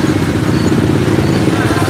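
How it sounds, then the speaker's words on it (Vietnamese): Motorcycles cross the Phong Châu pontoon bridge in a dense, continuous engine drone mixed with clatter and rumble, loud and close throughout the short stretch. "Bây giờ là xe máy xuống rồi cả nhà"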